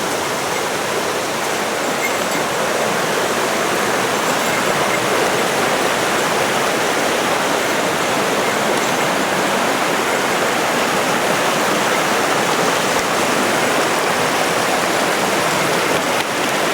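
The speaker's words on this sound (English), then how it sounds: "Let's walk along the river here." A mountain river and waterfall on a plateau in rural Japan rush in a steady, dense roar that stays loud and unbroken throughout, with no voices over it.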